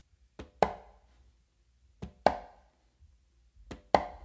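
A conga plays a modern funk groove, a soft low bass tone followed by a sharp close slap, the pair repeating three times with short gaps between, close and dry.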